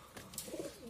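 A single soft, low coo from a pigeon at a rooftop loft of flying pigeons, brief and close but fairly quiet.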